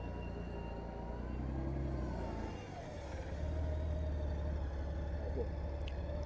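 Motorcycle engine idling, then rolling into a U-turn from a stop with a steady low rumble that rises as throttle is added, close and continuous.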